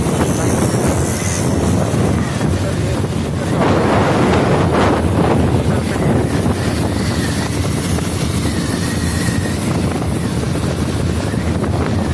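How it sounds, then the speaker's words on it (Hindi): Steady wind blows hard across the microphone, a continuous roaring buffet with no pauses, loud and close throughout. "ओ हवा चल रही भाई।"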